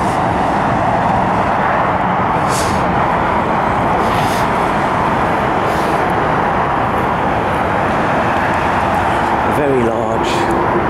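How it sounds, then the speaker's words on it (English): Heavy road traffic on the A14 near Huntingdon castle, a steady, dense roar of passing vehicles that fills the whole clip without letting up. "Very noisy traffic from the A14."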